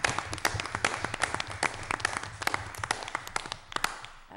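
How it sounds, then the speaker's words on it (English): At a school presentation, an audience claps steadily and densely throughout, a sustained round of applause filling the room with many overlapping hand claps. "This is where we all applaud."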